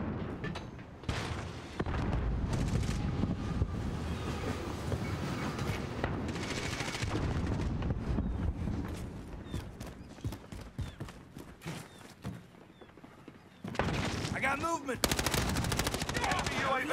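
Shotguns and other weapons fire in Call of Duty Modern Warfare multiplayer as sharp, dense volleys of shots. A long busy stretch thins out, then a loud final burst of blasts arrives.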